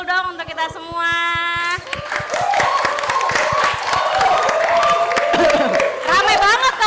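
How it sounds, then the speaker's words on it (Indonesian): An audience applauds at a televised high-school-edition talk event, with a steady, dense wash of clapping that swells after a brief spoken intro and carries on under voices and cheering. "Tepuk tangan dulu dong untuk kita semua."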